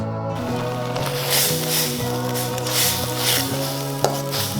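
Unripe tomatoes frying in a steel pan, a steady close sizzle with soft squishing as they are moved around, continuous at moderate level with one brief louder scrape near the end, no talking.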